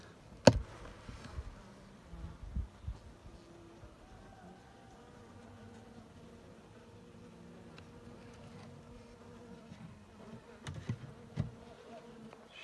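Honeybees buzzing in a hive as colonies gather into winter clusters, a steady low drone with scattered louder buzzes close by and a few sharp knocks.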